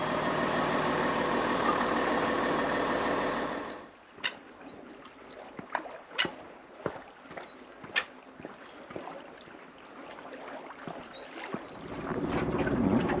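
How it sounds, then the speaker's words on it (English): A boat motor drones steadily in Tasmania, cuts out, and gives way to water lapping and knocking against a hull with faint bird chirps, before the engine hum returns. "First day out in the boat"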